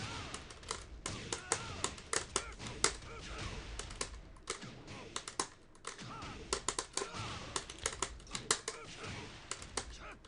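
Buttons on a keyboard-style hitbox fighting-game controller clatter in rapid, irregular bursts of clicks and taps, close and busy, with game sounds running underneath.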